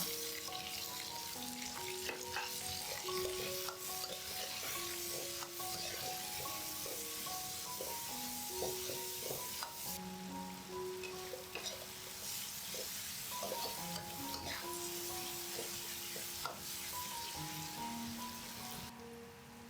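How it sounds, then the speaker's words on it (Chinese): Garlic slices and chili peppers hitting hot oil with pork being stir-fried in a wok, giving a dense, continuous crackling sizzle with scattered pops and faint clinks of the spatula throughout. "这个时候下入蒜片跟辣椒"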